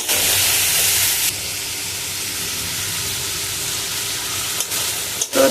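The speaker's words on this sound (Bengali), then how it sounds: "প্রথমে আমি এখানে তেলের পরে আদা রসুন কাঁচা লঙ্কা আর 2টা এলাচ আর একটা দারচিনি দিয়ে আমি ভালো মতো কষিয়ে নিচ্ছি মশলাটা" Ginger, garlic, green chili, two cardamom pods and a cinnamon stick fry in hot oil with a loud, steady sizzle that begins as a sharp hiss and settles into a continuous crackle, with no talking.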